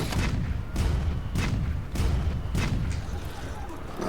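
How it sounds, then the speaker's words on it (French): Zorah Magdaros in the Monster Hunter World video game fires cannonballs, a loud rumbling run of heavy booms landing in a steady rhythm roughly every half second over a continuous low roar. "lui tire des boulets de canon"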